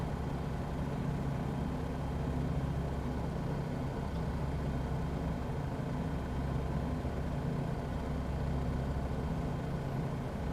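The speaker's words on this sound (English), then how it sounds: "The engine sounds great." In Microsoft Flight Simulator, the bush plane's propeller engine drones steadily and loudly while flying over North East England, a constant low hum with no talking.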